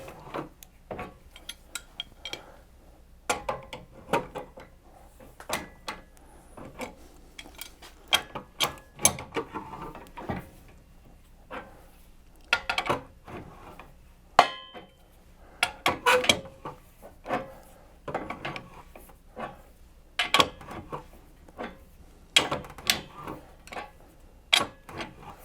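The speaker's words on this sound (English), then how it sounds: "they say in their video for tightening this thing up to use a large crescent wrench" A large crescent wrench tightening a RockHard 4x4 swing-out tire carrier on a Jeep TJ, a long series of close metallic clicks, scrapes and knocks in irregular bursts with short pauses, no talking.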